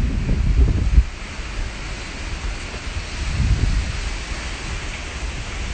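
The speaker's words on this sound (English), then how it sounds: "how crazy this wind is" Strong storm wind buffets the microphone outdoors in bad, rainy weather, a loud continuous roar with heavy low gusts swelling near the start and again midway.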